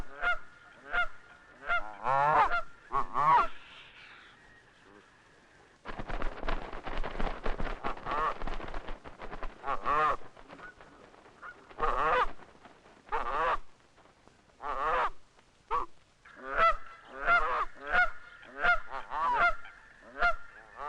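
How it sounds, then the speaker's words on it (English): Canada goose sounding its loud danger honks near the nest as a fox approaches, repeated harsh calls in bursts with short gaps, sometimes overlapping. "the goose sounds the danger note to the gander"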